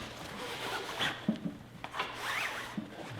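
A StainSkrub brush scrubs dirt and grime out, giving quiet, irregular rubbing and rasping strokes in short bursts, close and fairly faint.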